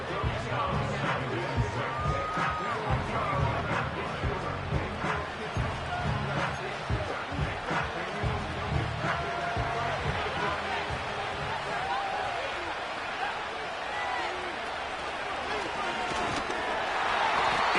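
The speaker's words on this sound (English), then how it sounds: "And the crowd a major factor now as we get to 3rd down." Stadium crowd noise in an NFL football video game rumbles as a continuous dense roar of cheering and babble throughout, with a commentator's voice heard over it.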